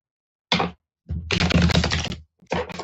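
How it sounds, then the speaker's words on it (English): Playing cards being shuffled during a live psychic radio reading, three bursts of dry riffling, close and fairly loud, with short silent gaps between them and no talk. "Lynn, I want you to tell me when to stop shuffling"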